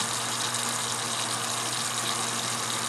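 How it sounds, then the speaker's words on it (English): A kitchen tap runs in a steady, continuous rush of water, close and fairly loud, with no pauses. "go ahead and get my water turned on"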